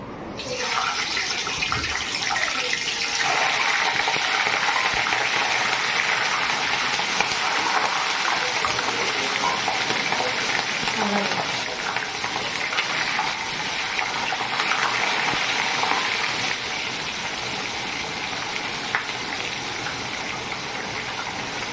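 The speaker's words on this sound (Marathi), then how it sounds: "तेल आपलं तापलेलं आहे आता आपण मिरची तळून घेऊया" Green chillies deep frying in hot oil for bhaji, a loud, close, continuous bubbling hiss that keeps going and eases slightly near the end, with no voices.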